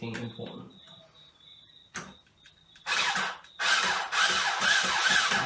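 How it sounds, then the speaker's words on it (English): A low-power drill whirs in two bursts near a workshop table saw, the second longer with stuttering pulses, following a stretch of talk and a brief clunk. "I'm going to use my low power drill for this so I won't strip anything important."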